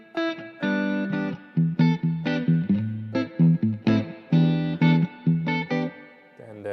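Guitar played through a Spring 2600 spring reverb setting modeled on an Accutronics spring tank, short strummed chords and phrases with a splashy, ringing reverb tail between loud bursts.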